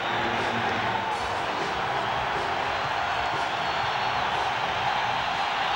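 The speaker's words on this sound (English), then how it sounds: "Sellout crowd at Candlestick" A sellout stadium crowd roars at Candlestick Park before kickoff of the 1993 NFC Divisional Playoff between the New York Giants and San Francisco 49ers, a constant broad wash of cheering under a commentator's voice.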